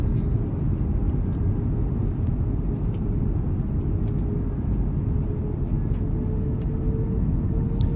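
Steady, loud jet airliner cabin roar from a Fenix A320 in flight in Microsoft Flight Simulator 2020, a continuous broadband engine and airflow rumble with a faint tonal whine, no talking.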